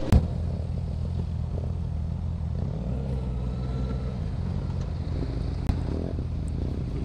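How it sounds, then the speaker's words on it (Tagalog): Honda CB650R E-Clutch motorcycle with a gutted exhaust pipe, riding on an expressway, gives a steady low engine drone and exhaust rumble throughout, with wind buffeting over it and a brief clack near the end. "kahit na kalkal lang yung pipe niya, ganda niya tumunog. Yung sigaw ng motor na to"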